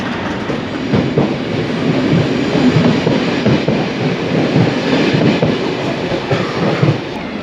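A passenger train from Bern arriving at Interlaken, Switzerland, rumbling along the rails, steady clickety-clack and low wheel noise heard from inside a busy carriage, loud and continuous.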